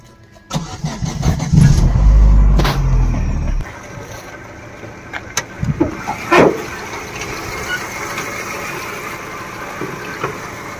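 A 2006 Chevrolet Optra car engine cranks and catches with a loud burst, then settles into a quieter steady idle, with a few sharp clicks and knocks over the running engine.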